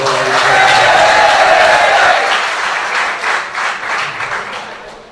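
A mushaira audience bursts into loud, dense clapping that holds strong for about two seconds, then thins into uneven, tapering claps that fade toward the end.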